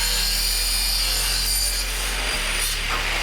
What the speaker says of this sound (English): Cut off the slim facade profile at a 45-degree angle,